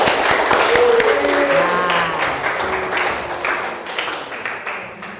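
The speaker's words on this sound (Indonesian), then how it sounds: "Tepuk tangan ke Fadil." A classroom full of people clapping together, steady applause that slowly thins out, with a few voices mixed in.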